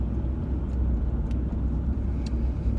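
A car driving close behind on the road, heard from inside a moving vehicle as a steady low engine and tire rumble that stays loud and even throughout, with no talking.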